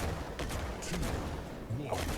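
A mech in Mech Arena firing during a match, a few booming shots and impacts amid busy game noise, with a voice talking faintly underneath.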